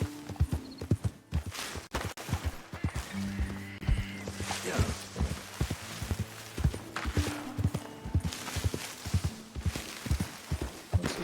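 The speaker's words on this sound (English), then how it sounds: "Looks like a guy on a horse" Horse hooves clip-clop steadily in Red Dead Redemption 2, an even walking rhythm close by throughout, with faint background game sounds and occasional low voice underneath.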